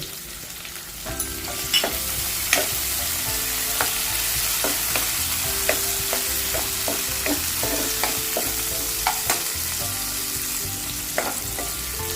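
Chopped tomato fries in oil with asafoetida for a ridge gourd sabzi, a steady close sizzle broken by repeated light scrapes and taps of a spatula stirring the pan.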